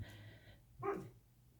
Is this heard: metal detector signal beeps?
no